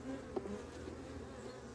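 Honeybees buzzing around an opened hive during a pre-winter colony check, a steady soft drone close by with no talking.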